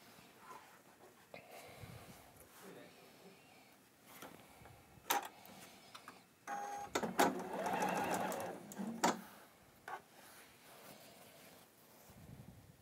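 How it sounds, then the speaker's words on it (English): A domestic sewing machine stitches seams on a quilt block in short bursts, its motor whirring and needle clattering rapidly, the longest run in the middle, with quiet pauses and handling noises between. "Now this one I'm using a sewing machine at the moment"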